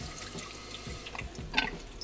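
Water trickles and drips softly into a cylinder at a lab bench, a faint liquid splash with one brighter drip near the end, heard alone without talk.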